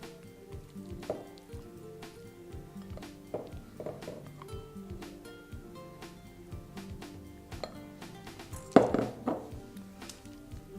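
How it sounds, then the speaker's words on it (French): A spoon spreads apple compote across the bottom of a tart shell in quiet, soft scraping and tapping strokes, with one louder clink near the end. "Juste étaler, soit avec une cuillère, une petite palette, votre compoté au fond"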